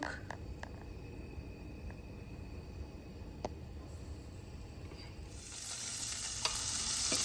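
Cumin seeds sizzle in hot oil for tawa pulav, a soft steady frying hiss with a few sharp clicks from a utensil, swelling louder and brighter toward the end.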